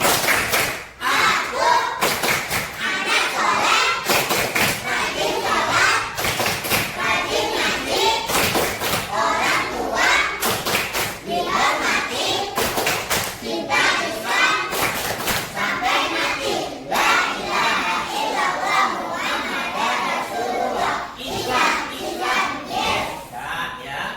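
Children chant the Islamic 'tepuk anak soleh' clapping chant together in a classroom, clapping in a steady rhythm, their sharp claps and thumps repeating in patterned bursts throughout.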